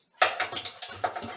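Metal bolts being worked loose and lifted from Mustang Torino wheel covers, giving a short run of close clinking and rattling metal knocks, with a brief pause before a few more clinks.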